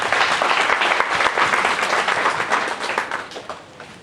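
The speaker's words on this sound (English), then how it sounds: "Can we clap hands for Prinora?" An audience at a graduation applauds in a dense, loud wash of many hands clapping at once, close and sustained, gradually thinning and fading toward the end.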